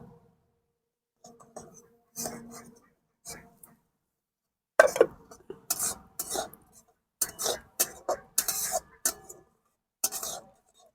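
Fried semolina scraped and stirred into a sugary coconut-milk filling for palm-fruit bhapa pitha, giving close, repeated rasping strokes in irregular bursts that grow busier toward the end.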